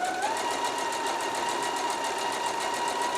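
A sewing machine runs steadily, its rapid needle clatter and motor whine holding a constant pace, close and fairly loud with no voices over it.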